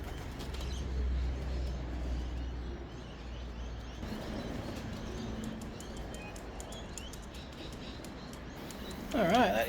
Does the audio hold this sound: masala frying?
no